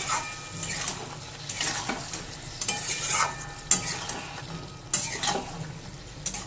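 Mourala fish curry being stirred in a pan after a little hot water is added, with a soft continuous sizzle and repeated scraping strokes of a spoon against the pan.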